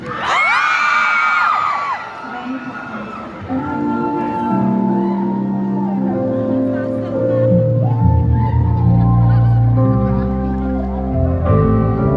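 An excited concert audience at SM North Skydome screams and cheers loudly, high-pitched shrieks rising at the start, then a sustained roar that carries on under a voice and music.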